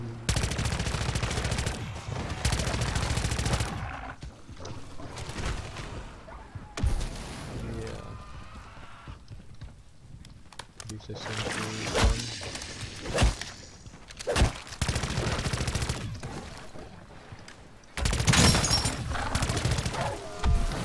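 An SMG fires in bursts in MW3 Zombies. The rapid gunfire comes in loud repeated bursts with brief pauses between them, plus occasional booms and a faint voice in between.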